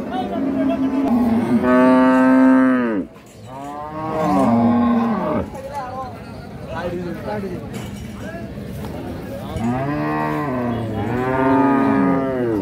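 Cows low at a busy cattle market, with long, loud, near moos rising and falling one after another, and short pauses between calls over a constant crowd murmur.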